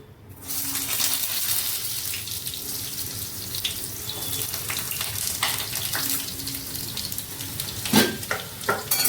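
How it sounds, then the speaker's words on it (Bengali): Sliced potatoes frying in hot oil in a pan, giving a steady close sizzle and crackle throughout with a few sharper pops and clatters near the end. "এইগুলোকে প্রথমে আমি ভেজে নেব। প্রথমে আমি আলুগুলোকে দিয়ে দেবো।"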